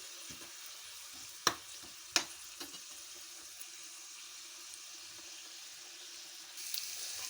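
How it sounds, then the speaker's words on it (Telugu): Onions fry in a pan for a fish curry with a faint, steady sizzle, broken by a couple of sharp clinks of a utensil early on, quiet and close. "ఉల్లిపాయలు బాగా ఎగినాయి కదా"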